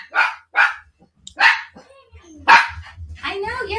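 A household dog barks several times in sharp, close bursts with short pauses between them, while someone speaks over the later part.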